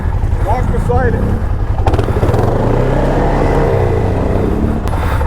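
Quad ATV engine revving up and down as the throttle is worked from beside the machine, loud and close with a rumbling low growl, while a person talks over it.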